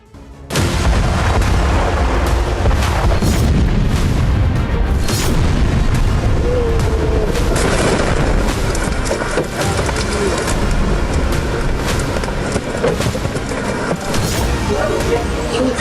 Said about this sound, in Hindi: एक जबरदस्त ब्लास्ट जिसकी गूंज से कई किलोमीटर का इलाका थर्रा उठा